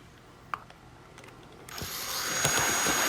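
A small power drill starts up partway through and runs steadily at high speed, quiet and close by, after a few light handling clicks.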